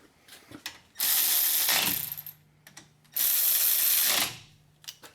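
Ratchet tightening the front caliper bolts on a Chevy Impala during a wheel bearing job, two loud, sustained bursts of rapid clicking about a second each, separated by quieter handling noises, close up with no talk.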